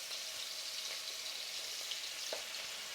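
Ginger and garlic fry in hot oil in a pan, giving a steady, bright, close sizzle with small crackles throughout and no voices.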